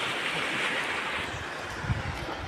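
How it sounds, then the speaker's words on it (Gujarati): Steady, loud rushing of village floodwater after heavy rain fills the clip, a broad continuous roar with a low rumble underneath and no voices. "અહીંયા જોઈ શકો છો મિત્રો કેટલું બધું પાણી આવી રહ્યું છે"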